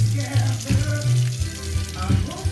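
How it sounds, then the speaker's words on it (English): Raw shrimp being rinsed under a running kitchen tap after deveining, a steady close splash of water with small shifts in flow and a faint background hum. "you just rinse out all of that, the entrails that are in the head"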